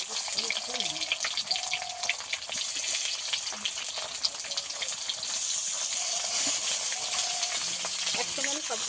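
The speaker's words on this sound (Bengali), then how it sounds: "এবার একে একে পাতুরিগুলো কড়াই ছেড়ে দেব।" Bhetki fish paturi wrapped in cabbage leaves frying in a kadai, a steady close sizzle with scattered pops and crackles throughout.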